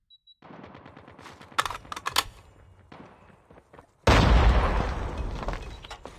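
Rapid bursts of Switchblade fire in Call of Duty Mobile, a run of close, loud shots with clattering reports, then a sudden heavy blast of sustained noise near the end.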